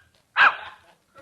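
A dog in a comedy pet shop sketch barks once, sharp and close, in answer to an arithmetic question, with a short fainter trailing sound and a brief noise at the end.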